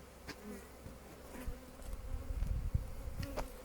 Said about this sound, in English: We got a bee hatching just there.